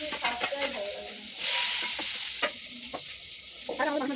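Pangas fish frying in a pan, sizzling and spattering steadily up close with bursts of hissing and occasional stirring.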